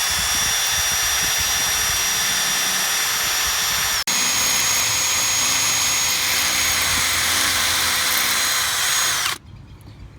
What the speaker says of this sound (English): Notice how I'm pulling the cable back so the drill bit doesn't accidentally cut the cable.